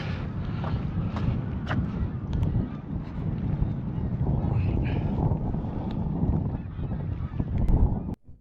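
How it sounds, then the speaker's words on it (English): Steady wind buffets the microphone in a continuous low rumble at the Clyde estuary near Irvine, Scotland, with faint honking birds in the distance. "Well, it's a bit windy here,"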